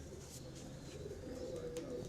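A prized male pigeon gives a soft, low coo at close range, quiet and steady against faint background noise.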